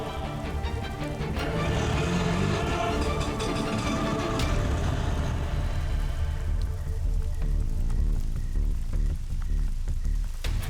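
Steady rain falls outdoors in a continuous close wash of noise, with a low vehicle engine rumble beneath it and no talking.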